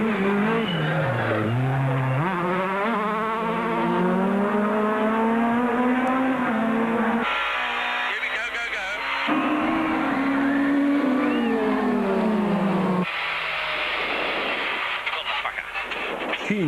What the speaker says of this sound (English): as we go in car with Rueda and Swanepoel challenging Berger and Bonafide in an all-N4 battle.